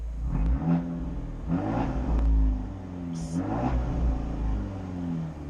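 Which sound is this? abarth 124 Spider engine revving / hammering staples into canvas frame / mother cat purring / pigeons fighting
abarth 124 Spider engine revving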